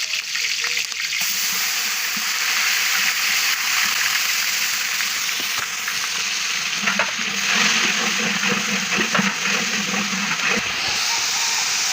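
A large batch of blended onion fries in hot oil for a wedding-style biriyani, with bay leaf, cinnamon and cardamom; a loud, steady sizzle and hiss with stirring scrapes throughout.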